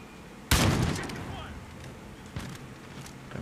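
Gunfire in the video game Call of Duty Modern Warfare during online multiplayer: one loud, sudden burst of shots that decays over about half a second, followed by quieter scattered pops and game noise.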